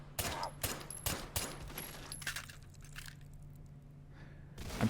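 Suppressed .380 pistol fired in the VR shooter H3VR, a quick string of four or five muffled, punchy shots close together at the start, then quieter mechanical handling and a faint hum.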